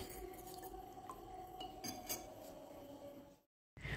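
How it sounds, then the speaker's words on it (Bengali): Cornflour being stirred into water in a bowl gives soft, quiet clinks of a spoon against the dish with faint liquid swishing, then a brief silence at the end. "এবার জলের সাথে খুব ভালো করে কর্নফ্লোরটাকে গুলে নিতে হবে"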